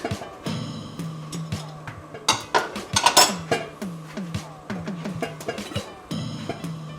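A metal pot lid lifts off a pot of quinoa heating on the stove, with repeated clanks, scrapes and rattles of cookware, some of them loud, near the listener.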